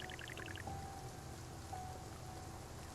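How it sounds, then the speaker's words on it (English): Rain falls steadily in the video game Spiritfarer, a soft continuous patter and trickle at low volume, with a few faint chiming tones near the start and no talking. "Especially since it's raining right now."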